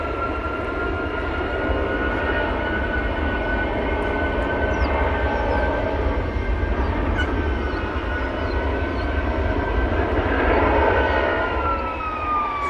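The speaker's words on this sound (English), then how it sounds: "them engines sound impressive in an engine testing bay" Aircraft engines running in an engine testing bay at Manchester airport, giving a steady, loud roar with a whining tone that continues unbroken throughout.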